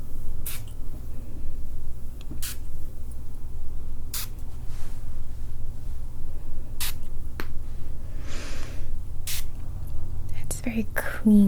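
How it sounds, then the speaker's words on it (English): Jasmine-rose scented spray misted in several short, crisp hisses spaced a couple of seconds apart, close and soft against a quiet background. "we're going to move on to some spray"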